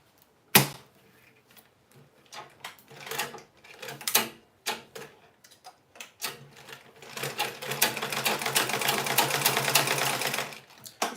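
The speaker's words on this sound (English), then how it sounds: "So I'll just be sewing through that line that I drew." A sewing machine stitches along a gathered line of fabric for a turban, running in short stop-start bursts at first and then in a long steady run of rapid stitching near the end.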